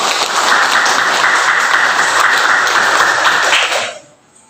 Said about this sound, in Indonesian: Mari beri tepuk tangan ke kelompok 2.